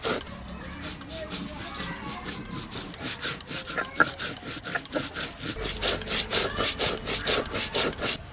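Spice paste, including coriander, is ground by hand on a stone in a home kitchen, giving a steady, close, rhythmic rubbing and scraping of back-and-forth strokes that carries on throughout.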